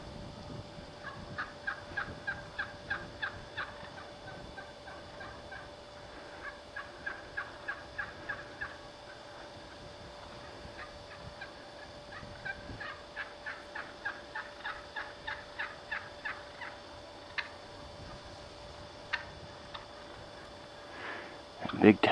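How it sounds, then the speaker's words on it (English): A flock of wild turkeys in woodland, with a big tom clucking off among the trees: repeated bursts of quick, rhythmic clucks, moderately distant and soft, returning in several volleys over a steady low background hiss. "That big Tom that went into the woods is clucking over there."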